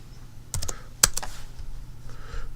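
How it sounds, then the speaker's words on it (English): Keys clack on a computer keyboard while entering data into a spreadsheet: a brief burst of close, crisp keystrokes, a louder tap, then fainter scattered clicks over a low room hum. "we're going to just type in true"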